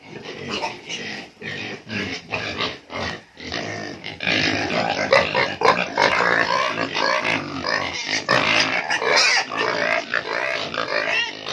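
Several pigs squeal and grunt loudly, in short bursts at first and then in a continuous, frantic chorus, close by.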